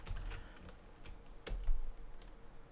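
Keys tapping on a computer keyboard while a brush shelf is named in Mari 3 software, a quick run of light clicks at close range, steady and moderately quiet with no talk.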